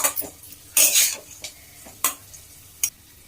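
Onions frying golden brown for paneer masala, with scattered scraping stirs and clinks of a utensil against the pan over a soft sizzle.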